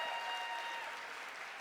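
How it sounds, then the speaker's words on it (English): Convention audience applauding after a pair of presenters, a dense, even wash of clapping from a large crowd that holds steady and then eases slightly, with no voices over it. "Another round of applause for them, everybody."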